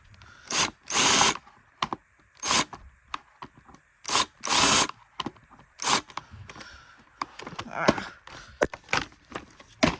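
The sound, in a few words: power drill removing screws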